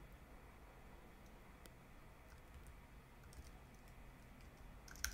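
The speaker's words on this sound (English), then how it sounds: "my mic's covering my keyboard" Faint, steady tapping on a computer keyboard runs through the whole stretch under a low background hiss, ending with a slightly louder click.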